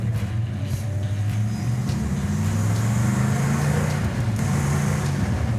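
A classic car drives along with a steady, continuous engine drone and road rumble that stays close and loud throughout, with no talking.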